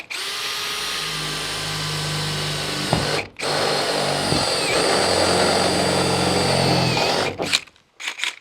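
A power drill bores a hole high in the sheet-metal body of a 2023 Ford Transit 148 long-body van, whining loud and steady with a brief break near three seconds, then winding down in short bursts near the end.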